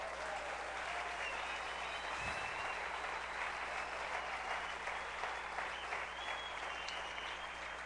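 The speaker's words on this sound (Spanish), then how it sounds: "Denle un aplauso al Padre" A church congregation claps in a steady, dense wave of applause that fills the whole stretch, with no voice over it.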